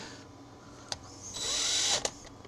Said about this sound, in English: But this one here, I'm going to drill it.